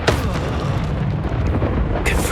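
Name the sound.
Expulso blasting spell explosion from video game Hogwarts Legacy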